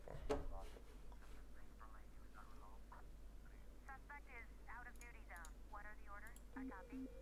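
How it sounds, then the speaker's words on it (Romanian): An incoming phone call rings in the emergency dispatch game 911 Operator: two short electronic ring tones near the end, heard under steady talking. "Hey, încă un telefon."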